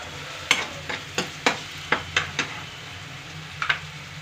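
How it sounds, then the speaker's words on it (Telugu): Ginger garlic paste frying in a pan under a soft steady sizzle, with about ten sharp spoon strokes and scrapes against the pan at an uneven pace; no talking. "ఒక స్పూన్ అల్లం వెల్లుల్లి పేస్ట్ వేస్తున్నాను ఇది మొత్తం ఇలాగ కలిసి వేగాలండి"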